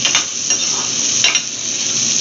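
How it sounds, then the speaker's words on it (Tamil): Chopped onion frying in a pan with a bay leaf for brinji rice, loud close sizzling with a few scraping stirs of a spatula and no talk. "ஆனியன் சாப் பண்ணி போடணும். நல்லா ஃப்ரை பண்ணணும்."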